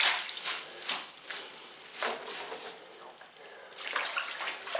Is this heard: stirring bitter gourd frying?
no